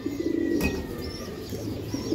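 Giribaz racing pigeons cooing softly, a short low burble heard near and alone against quiet background, with a faint chirp toward the end.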